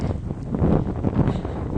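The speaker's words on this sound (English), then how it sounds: "It is quiet, it's windy too." Gusting wind buffets the microphone with low, rumbling bursts that rise and fall, heard outdoors in Paris near Tour Saint-Jacques without any speech.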